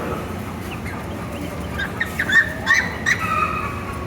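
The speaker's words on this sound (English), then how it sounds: "Next set of birds we have are the broiler chicks." Newly hatched broiler chicks, only a couple of days old, at a state fair poultry exhibit give a few faint, high peeps in the second half over a steady background hubbub.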